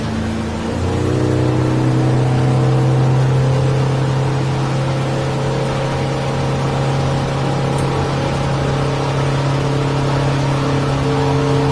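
A 2023 Yamaha F150 outboard holds a steady cruise at about 3,100 RPM on a 2023 Stabicraft 2050 Supercab aluminium boat. It gives a constant loud, droning hum with rushing water and wind, and no one speaks.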